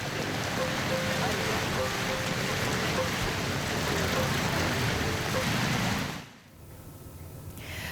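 Heavy rain pours steadily onto a flooded street, a dense continuous hiss with a faint tonal hum, then drops off sharply near the end before resuming more quietly.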